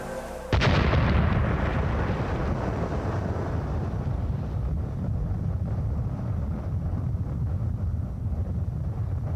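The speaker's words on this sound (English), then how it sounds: "the countdown to the world's first atomic explosion began" The world's first atomic bomb explosion in the desert, on an archival recording: a sudden sharp blast, then a loud sustained rumbling roar that keeps going for several seconds with no speech.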